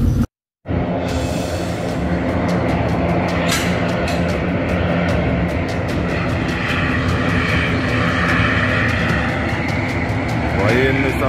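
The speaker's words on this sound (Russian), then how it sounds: "Военный самолет" A military airplane passes over a protest rally in Mangystau region, a loud sustained engine roar that swells as it goes by, with people talking and shouting underneath.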